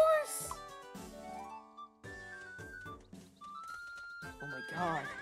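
Horse neighing in the Miitopia video game, a bright, high whinny at the start followed by musical game tones and chimes, with an excited voice talking over the sound.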